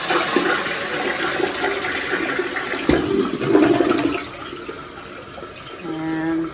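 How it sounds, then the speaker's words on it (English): Toilet flushing just after its fill valve was replaced: a rushing gush of water that swells midway and then settles into a quieter refill trickle, close and alone. "We're going to flush the"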